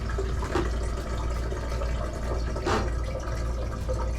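Water pours out of an RV holding tank in a steady, gushing stream, with a couple of brief louder splashes riding over the continuous flow.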